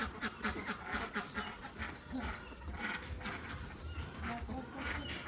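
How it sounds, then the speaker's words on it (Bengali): A few ducks quack in loose, repeated bursts as they head home at dusk, fairly faint and somewhat distant against a noisy rural background. "সন্ধ্যা হয়ে গেছে হাঁস মুরগি ঘরে যাইতেছে"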